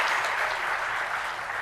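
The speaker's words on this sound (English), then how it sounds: "Once again, a great round of applause." Sustained applause from an audience at an entrepreneurs club awards event, dense and steady across the whole stretch without a break, loud and close, with no voices over it.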